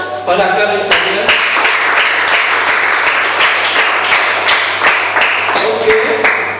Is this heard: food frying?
no